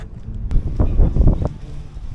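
Wind buffets the microphone in loud, rumbling gusts, with a few scattered rustles and no talking.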